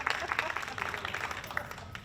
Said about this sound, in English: should we applaud?